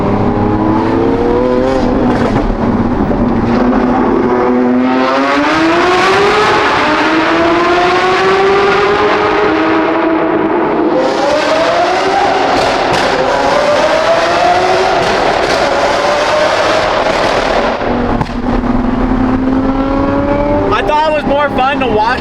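A loud sports car engine roars while driving, pulling through long rising revs with gear shifts between them and a steady drone underneath, heard close from inside the car.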